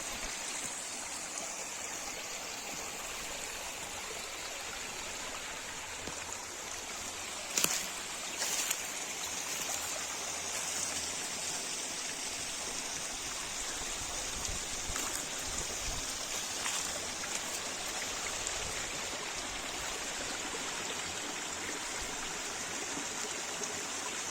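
A forest creek flows steadily past its bank near plane trees by a village, a constant close rushing and gurgling of water with a couple of faint knocks partway through.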